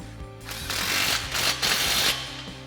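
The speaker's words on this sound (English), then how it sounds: "now we'll take a 15mm socket and we're gonna snug up this clamp" A ratchet with a 15mm socket snugging up an exhaust clamp on a 2022-2024 Toyota Tundra, quick clicking strokes in a few short bursts, close and fairly loud.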